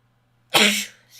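One sudden sneeze bursts out close by after a moment of silence, sharp and loud, then trails off with a short breathy tail.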